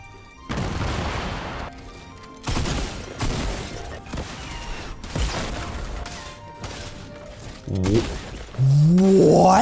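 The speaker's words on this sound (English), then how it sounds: "he shot me through the ramp" Gunfire in a competitive shooter video game, several loud bursts and volleys in quick succession, close and harsh, with clattering impacts and rising synthetic tones near the end.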